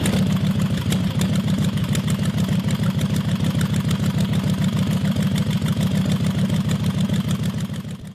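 A motorcycle with a huge 4,888 cc 70-degree V-twin engine runs at idle, a loud deep rapid pulsing throb with even firing beats that hold steady before easing slightly at the end.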